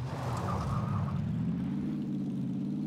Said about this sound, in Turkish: Ben arabayla yolun karşısına geçeceğim.